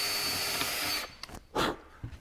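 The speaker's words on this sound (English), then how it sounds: "let's say you drill a hole right here" A power drill bores a hole in wood in a woodshop, whirring loudly and steadily for about a second before cutting off, followed by a few soft clicks and knocks.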